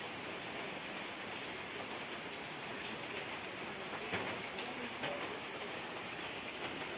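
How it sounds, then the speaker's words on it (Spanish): Light rain falls outdoors in the countryside near a campfire, a soft, steady patter with a few slightly louder drops, continuous and even, with no one talking. "está lloviendo suave."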